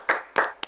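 A few separate hand claps, three quick bursts with short gaps, at an event honoring a scientist professor, sparse and moderately close rather than a full applauding crowd.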